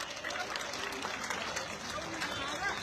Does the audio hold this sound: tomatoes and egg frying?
no